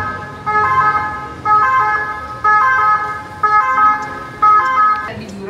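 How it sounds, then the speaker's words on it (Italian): A loud ambulance siren wails close by, its two-tone pattern cycling about five times in a regular rhythm with traffic rumble underneath. "Ricomincia l'ambulanza."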